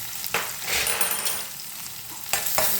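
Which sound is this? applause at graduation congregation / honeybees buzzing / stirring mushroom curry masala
stirring mushroom curry masala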